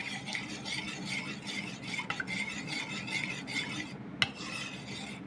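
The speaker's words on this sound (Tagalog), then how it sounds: "halu-haluin lang po muna natin" Coconut milk mixed with custard powder being stirred in a pot, a continuous close scraping and swishing with a spoon against the metal, steady rhythm and one sharper clink near the end.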